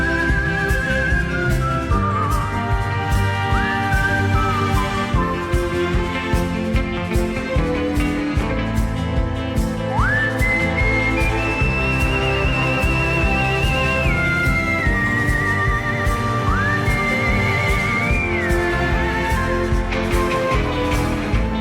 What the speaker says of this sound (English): What a professional whistler, man. Those whistles are sounding good.